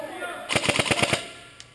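An airsoft gun at an indoor arena fires a fast full-auto burst of about seven sharp, loud, evenly spaced shots that stops abruptly, followed by a faint single click.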